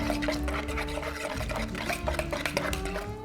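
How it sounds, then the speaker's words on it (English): A fork mixes chocolate with eggs in a bowl, making steady scraping and clicking strokes against the dish in a quick, repetitive rhythm, close and clear. "Mix the chocolate with the eggs. You don't need a whisk for this. I'm using the fork because that's more than enough."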